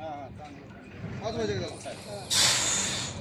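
People talk briefly, then a sharp, loud hiss of an adult cobra about 5 to 5.5 feet long bursts out near the end, breathy and sustained.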